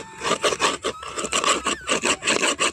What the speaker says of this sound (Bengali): এইরকম খুন্তি দিয়ে একটু আমরা যদি কাজটা করে দেই খুব সহজে এইগুলো উঠে যাবে